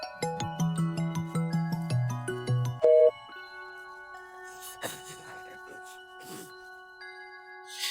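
A mobile phone ringtone plays a bright, repeating electronic melody for about three seconds and then cuts off, leaving faint, scattered background sounds.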